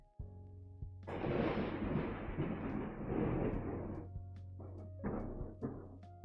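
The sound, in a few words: thunder from a lightning storm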